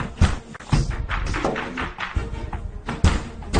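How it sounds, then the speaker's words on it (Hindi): Heavy pounding on a door in an attempt to break it down, a few dull thuds at irregular intervals, close and fairly loud, mixed with a tense film score and muffled voices. "मैं दरवाजा तोड़ दूंगा।"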